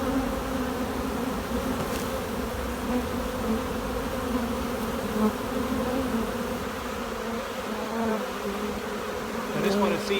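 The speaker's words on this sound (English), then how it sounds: "I'm going to shake the bees into this tub." A dense swarm of honeybees hums and buzzes loudly and steadily at close range while the bees are shaken into a tub, with a few faint knocks.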